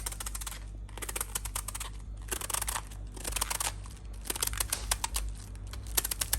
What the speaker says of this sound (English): so you have one cabbage you cut in at 2. You cut in at 2, so you have to cut it like this.